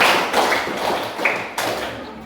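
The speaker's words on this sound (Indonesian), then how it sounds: "Tepuk berpola seperti ini, silakan diikuti. Tepuk 1, tepuk 2, tepuk 3, tepuk 5." A classroom of pupils claps a counted pattern in unison, a dense, roomy run of hand claps with clear accented bursts near the start, middle and end.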